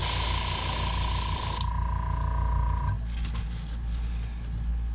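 An aerosol spray can hisses loudly and steadily while paint is applied to a plopper fishing bait, then cuts off partway through, leaving a softer mechanical hum with faint clicks.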